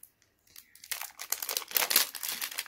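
Zipper being pulled open on a soft toy doll bag, a close, dry crinkling rasp that builds over about two seconds and grows louder toward the end.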